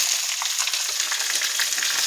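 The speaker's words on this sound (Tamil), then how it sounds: "இப்போ வெங்காயத்தை அள்ளி போட்டுக்கலாம்" Onions sizzling steadily in a hot pan while cooking keerai greens, a continuous dense crackle with no pauses and no voices.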